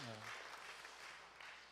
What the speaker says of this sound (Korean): 우리 박수로 환영해 주시길 바랍니다